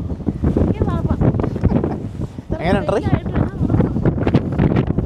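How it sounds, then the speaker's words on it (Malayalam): Strong wind buffets the microphone outdoors on the grounds of Chatsworth House in the Peak District, a steady loud rumble with gusts while people talk close by throughout. "നല്ല കാറ്റുണ്ട്."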